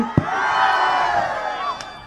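A political rally crowd roars and cheers loudly and continuously, a dense mass of shouting voices with a brief sharp clap near the start.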